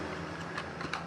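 Keys being typed on a computer keyboard while entering item names into an Excel table, a few soft, scattered clicks over a steady low hum, fairly quiet and without talk.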